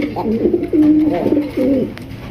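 Black Beauty pigeons coo in low, rolling bursts close by, three or four soft throaty phrases in quick succession.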